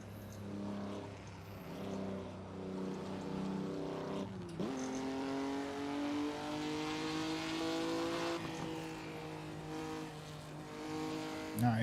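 A car engine on the Shutoko Expressway revs hard and climbs steadily through its gears, with a sustained harmonic whine that dips at one shift and then keeps rising, loud and close throughout.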